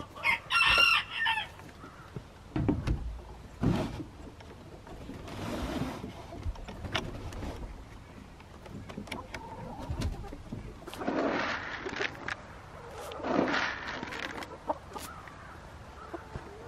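Chickens and chicks cluck outdoors, with repeated bursts of clucking and calling at varying distances and a loud crow-like call near the start. Quieter gaps fall between the outbursts.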